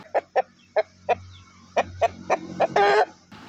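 Chickens cluck in a quick series of sharp, close calls, one drawn-out squawk near the end, with a low hum underneath.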